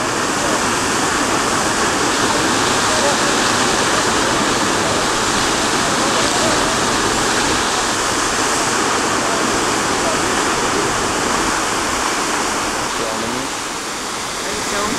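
A waterfall rushes in a steady, loud, broadband roar that holds constant throughout, with only a slight dip near the end.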